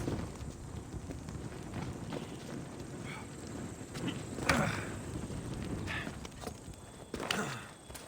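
A horse gallops across open ground in Assassin's Creed Odyssey, hooves drumming steadily under wind noise, with a few louder thuds along the way and no voices.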